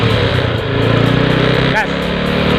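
An old bicycle's Bosch 115 dynamo spinning fast gives a steady, droning mechanical hum with a whirring buzz, continuous and fairly loud, while people talk over it.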